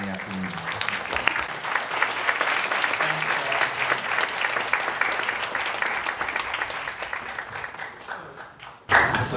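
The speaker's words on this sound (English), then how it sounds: "Please give a big applause for our panelists once again." An audience at a science and society conference session applauds its panelists, sustained, dense clapping close by for several seconds before it tapers off, with a short burst of noise at the end.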